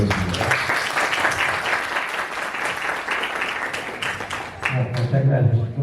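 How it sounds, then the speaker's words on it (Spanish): An audience at a lecture-style talk applauds guests with sustained, fairly loud clapping from a crowd, fading near the end as a voice begins. "un aplauso por favor para los invitados."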